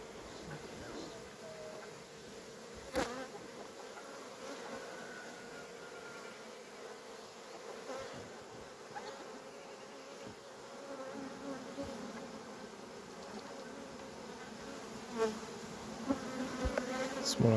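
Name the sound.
honeybees buzzing around an open beehive during inspection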